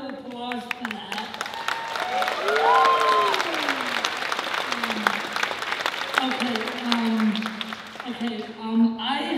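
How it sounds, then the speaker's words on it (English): A convention audience at BronyCon applauds, steady clapping from a crowd that swells and holds for several seconds while a voice speaks over it. "let's give a round of applause for that."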